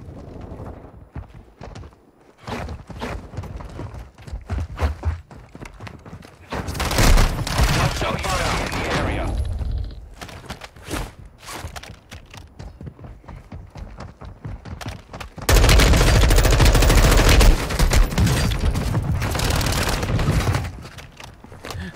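Gunfire in Call of Duty Warzone comes in bursts: scattered single shots, then two long loud stretches of rapid fire, mixed with other game sounds and some talking.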